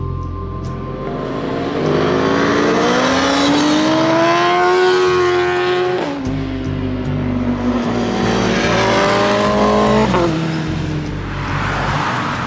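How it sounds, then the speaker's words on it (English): Several motorcycles ride past on a street, engines rising and falling in pitch with two or three loud passes, one after another and close by, with no talking. "Here comes more bikes, gosh."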